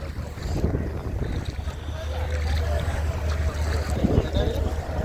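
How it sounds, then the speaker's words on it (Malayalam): A fishing boat's engine hums low and steady as it comes in to the shore at Vizhinjam beach during a fish auction, with wind buffeting the microphone and faint voices in the background. "ഒരു വള്ളം ഓടി വരുന്നുണ്ട്"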